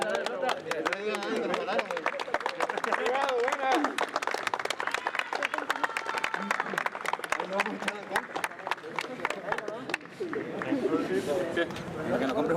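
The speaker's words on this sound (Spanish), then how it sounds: "Un aplauso muchachos por favor para el segundo lugar." Applause and clapping from a crowd honoring the second-place team at a Saturday six-a-side soccer final at Central Soccer, a dense, steady patter of many hands with voices mixed in throughout.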